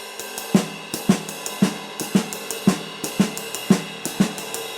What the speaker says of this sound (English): work on playing just the middle partial of the triplet a little bit. It would sound like this.